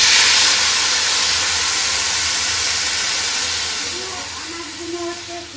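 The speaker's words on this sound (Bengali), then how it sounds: "এবার আমি জল দিয়ে দিচ্ছি।" Water poured into a cooking pot of sabu khichuri with lentils and vegetables, a loud broad rushing hiss that slowly fades over several seconds, with a faint tone emerging near the end.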